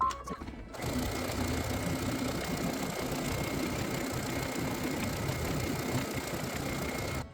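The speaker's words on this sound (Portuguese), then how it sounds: "E agora, então, na etapa verde, a máquina vai fazer a fixação desse estruturador." Embroidery machine tacking a stabilizer down onto fabric, a steady rapid mechanical stitching whir that starts after a brief quiet moment and runs continuously, close and fairly loud.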